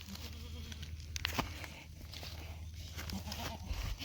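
Goats in a herd, held in a trailer before release, bleat in scattered overlapping calls over a steady low rumble, with a few brief knocks and shuffles mixed in.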